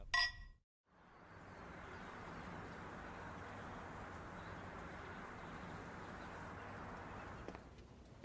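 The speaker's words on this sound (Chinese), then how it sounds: "干杯！" Glasses clink once in a toast at a family meal in a TV drama, a brief bright chime right at the start, followed by a steady, even background hiss.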